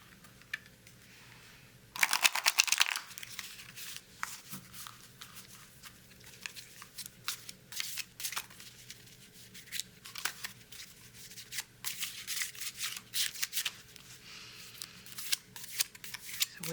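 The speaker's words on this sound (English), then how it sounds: "we are going to do a little shuffle here and pull your cards" Tarot cards being shuffled by hand, a burst of crisp riffling followed by repeated soft flicks, slides and taps of cards against each other, fairly quiet and close up with no voices.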